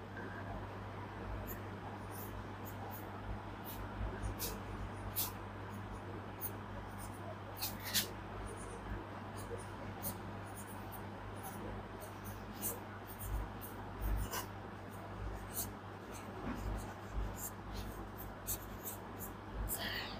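Writing on a board during a math lesson, faint scratchy strokes tapping and sliding in irregular bursts under a low steady hum, with a soft voice murmuring at times.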